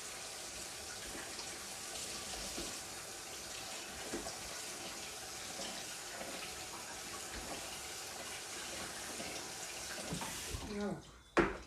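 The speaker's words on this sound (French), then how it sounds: "On va éteindre le feu et puis on va les rincer à l'eau claire." Tap water runs steadily over cooked cactus paddles as they are rinsed in a sink, a continuous splashing flow that stops abruptly near the end, followed by a brief clatter.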